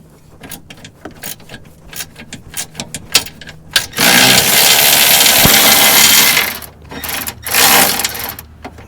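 A ratchet works suspension bolts loose on a rusty Subaru, rapid clicking strokes in bursts, then a longer steady whirring stretch, close and loud.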